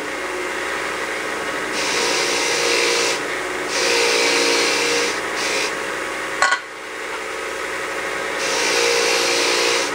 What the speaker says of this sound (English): I'm pulling up on it and using the wire wheel to pull the burr out of the end of the thread there.